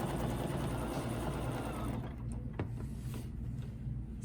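A sewing machine stitches a quilt block with ruler work, running in a fast, steady mechanical chatter that stops partway, leaving a faint hum and a few small clicks.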